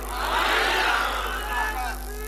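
Young men in a religious gathering shout a slogan together, a loud, rough massed cry that swells at once and fades over about two seconds.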